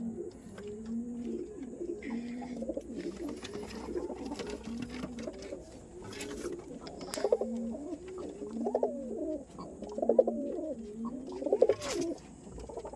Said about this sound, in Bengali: এই পায়রা একজনকে গিফট করে দেবো।